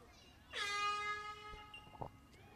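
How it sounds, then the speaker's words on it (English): Air horn sounding at a women's football match after a goal, one sustained tonal blast of about a second that trails off, fairly distant under crowd ambience. "An air horn to go off in celebration of sorts"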